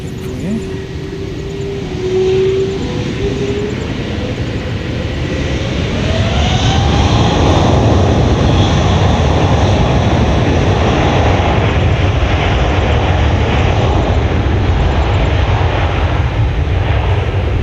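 A plane's jet engine at an airport roars loud and steady, its whine rising in pitch over the first seconds and then holding at a broad, close rumble.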